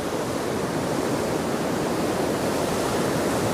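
Surf breaking on the shore at Hendon Prom on the North East coast after Storm Darragh, a continuous broad roar of white water, loud and steady with no clear separate waves.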